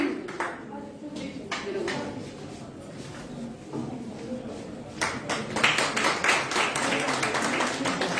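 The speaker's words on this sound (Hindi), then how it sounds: "तालियों से इन सबका प्रोत्साहन कराइए" Audience clapping at a J&K BJP Mahila Morcha gathering on the Poshan Abhiyan programme, scattered claps swelling into fuller, louder applause toward the end, with some talk underneath.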